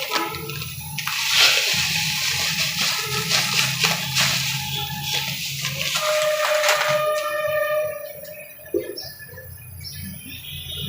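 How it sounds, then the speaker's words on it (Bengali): Milk comes to a rolling boil in a pot while vermicelli (semai) is being made, a steady bubbling, rushing hiss up close, with a short clatter near the end. "দুধটা বলক উঠে গিয়েছে, এখন আমি এই তো সেমাইটা দিয়ে দেব।"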